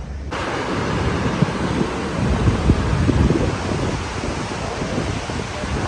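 Strong, forceful water rushes continuously at a junction near Upper Kachura Lake in Skardu, a loud broadband roar with gusty fluctuations and occasional louder surges, heard alone without talk.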